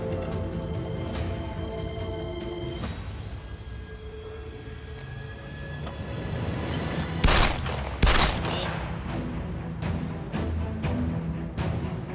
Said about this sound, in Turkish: Nereden geldi silah sesi?